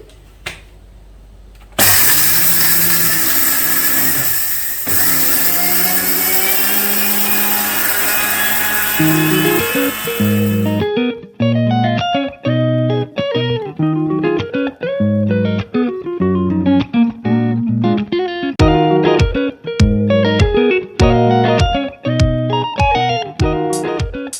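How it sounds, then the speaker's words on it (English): An electric spice grinder runs loud and steady for about nine seconds grinding cinnamon into powder, then stops and gives a series of short, sharp pulses with brief gaps between them, with no talking. "I make it then and there, and I like the smell that comes out of it. So I just grind them."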